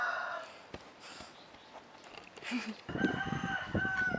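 A fighting rooster at a fighting-cock farm in Buriram crows near the end, loud and close, after a stretch of quieter farmyard ambience.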